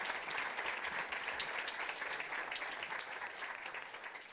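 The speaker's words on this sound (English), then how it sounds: "could I ask you to provide a round of applause" An audience at a panel session gives a continuous, dense round of applause for the panelists, heard as an even, fairly distant wash of many hands clapping with no voices.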